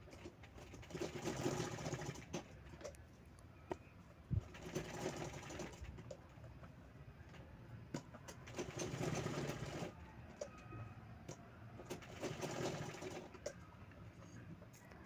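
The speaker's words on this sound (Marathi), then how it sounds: "त्यानंतर त्या स्क्वेअरला आपल्याला साईडनं शिलाई करून घ्यायची आहे" A sewing machine stitches along the sides of a fabric square for a homemade mobile holder, running in several steady bursts of rapid mechanical whirring separated by short pauses.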